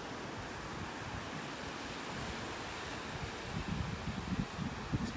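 Onshore breeze churning the surf on a North Naples, Florida beach during red tide, with steady broadband wave wash and wind rumble, building slightly louder toward the end.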